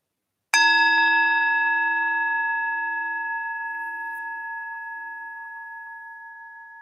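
A meditation bell is struck once, giving a clear, bright metallic ring with a sharp attack that slowly fades over several seconds into silence, heard alone.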